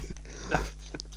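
A dog makes a few faint, brief snuffling and whimpering noises nearby, soft and irregular against a low background hum.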